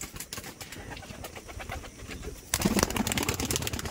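Giribaz pigeons in a loft coo in soft, repeated low calls, with a busier stretch of cooing and shuffling toward the end.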